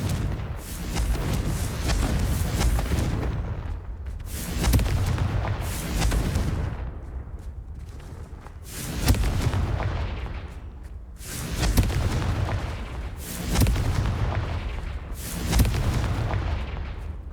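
Repeated heavy booming blasts of the Confringo spell in Hogwarts Legacy, loud explosions roughly every two seconds with rumbling decay, each followed by a brief lull, no voices.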